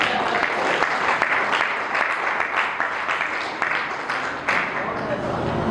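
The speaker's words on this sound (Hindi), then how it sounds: "तालियां आती हैं" An audience at a Hindi poetry recital claps in a brief warm burst, the applause mixed with the poet's voice speaking over it.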